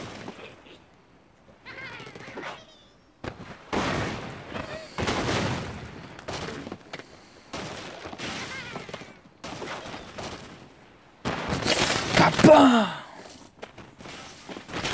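Bomb bird explosions in a video game: scattered blasts and rumbling bursts, with a sharper, louder explosion near the end, amid quieter gaps.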